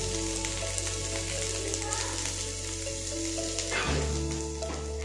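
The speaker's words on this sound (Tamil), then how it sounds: "இன்றைக்கி வந்து எக் பொரியல் பண்ணலாம் அப்படின்னு இருக்கேன்" Egg poriyal fries in a pan with a steady, close sizzle and crackle, a constant low hum beneath it and a brief stirring clatter near the end.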